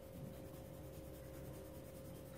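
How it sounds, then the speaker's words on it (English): Pencil strokes shading on paper, drawn lightly back and forth horizontally then vertically to build up a tonal scale; a steady, faint, continuous scratchy rubbing close by with no talking. "I'm going to start lightly, horizontally, then vertically with my pencil"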